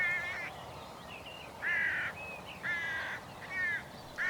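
A hooded crow caws loudly and harshly in repeated bursts of several calls while attacking a decoy bird, with short pauses between outbursts and a quiet outdoor background.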